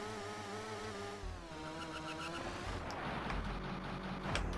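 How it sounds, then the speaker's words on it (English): Racing car engine from a MAME arcade driving game, a steady buzzing drone that shifts pitch as it revs, with gear-like drops and rises, loud and continuous alongside game music. "you've got engine sound here"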